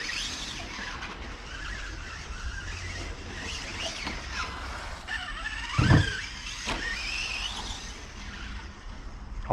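A Kyosho Rampage Pro RC car with a 2750kv motor on a 2S battery run at full throttle, its electric whine rising and falling continuously with squealing tyres and a brief louder burst midway.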